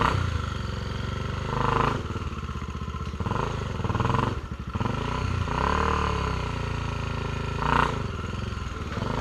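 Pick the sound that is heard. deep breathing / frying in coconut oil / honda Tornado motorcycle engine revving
honda Tornado motorcycle engine revving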